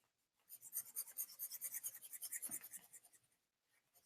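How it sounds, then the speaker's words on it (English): A pencil eraser rubs back and forth on paper in a quick run of about two dozen close, soft, rhythmic strokes lasting roughly three seconds, then stops, with no talking. "Erase."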